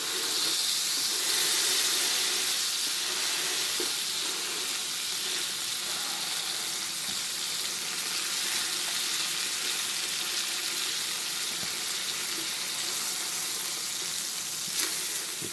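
Sloppy joe meat frying in a pan, a steady, close sizzle and hiss running throughout with occasional soft scrapes of stirring and no voices.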